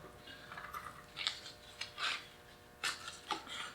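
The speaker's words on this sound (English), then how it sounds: "I'm gonna attempt to sand this and we'll see what we got underneath this paint" Sandpaper, starting with coarse 180 grit, rubs across a painted 1994-95 Mustang taillight in short, faint, irregular scraping strokes with quiet pauses between.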